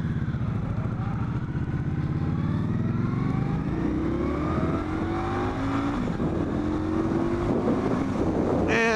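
An Indian Scout bobber motorcycle accelerates hard, its engine note climbing steadily through the gears over constant wind rush at the microphone, loud and close from start to finish.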